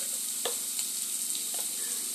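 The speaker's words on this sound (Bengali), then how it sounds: "আবারও একটু কষিয়ে নেব নুন হলুদ দেওয়ার পরে।" Catla fish curry spices sautéing in a pan after salt and turmeric go in, a steady soft sizzle with a few faint scraping stirs, close and quiet, no voices.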